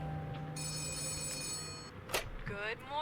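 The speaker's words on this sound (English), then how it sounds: "Office phone is ringing." An office phone in the video game Letter Lost rings with a bright electronic trill, followed by a short click and a warbling chime, all quiet and close.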